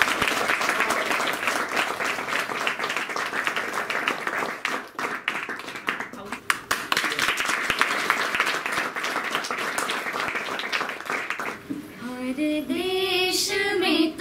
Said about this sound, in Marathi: गौरी ताईसाठी टाळ्या।